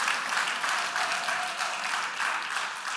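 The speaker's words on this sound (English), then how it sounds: "give yourselves a round of applause" Steady, full audience applause fills the whole stretch at an even level, dense clapping from a crowd gathered for a music talk, with no voices over it.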